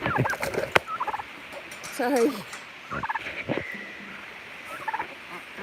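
Turkeys on a rural South Dakota farm gobbling in several bursts, close and clear, with a brief spoken word between the calls.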